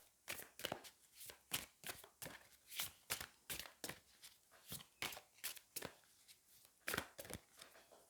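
Oracle cards being shuffled by hand, a steady run of crisp papery riffles and slaps repeating about twice a second, close and fairly quiet, with no talking.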